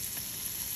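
Bacon pieces sizzling in a tablespoon of hot oil in a pan, a faint, steady frying hiss heard alone.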